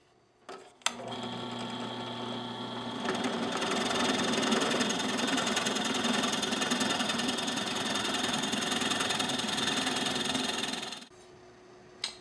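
A power drill boring holes into a wooden dowel-making jig, one continuous high whining run of roughly ten seconds that starts and stops abruptly, with a short click before it. The sound is close and steady and stands alone.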